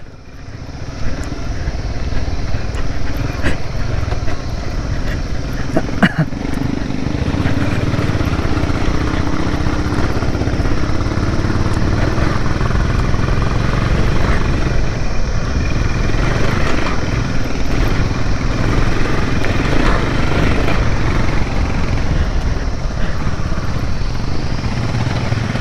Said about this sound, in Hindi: क्या मस्त साउंड आ रहा है ना बाइक से, धुक धुक धुक धुक धुक धुक करके